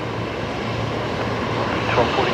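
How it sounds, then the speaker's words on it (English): A Boeing 737 Max 8 departing Brisbane for Melbourne gives off a steady jet rumble with a low engine hum, heard from afar. "The Max 8 we just there caught departing there off to Melbourne this afternoon."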